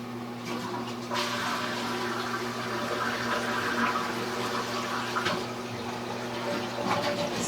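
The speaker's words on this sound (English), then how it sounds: "I'm going to flush that toilet and I'll show you." Toilet flushing in a house, heard as rushing, gurgling water draining through pipes past a floor drain, rising after a second and continuing steadily over a low constant hum, with no talk.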